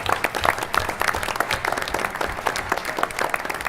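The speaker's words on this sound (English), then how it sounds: "I think we need to give Barney and everybody another round of applause" A conference audience at a justice summit legislative panel claps in steady, dense applause from a moderately sized crowd, heard alone.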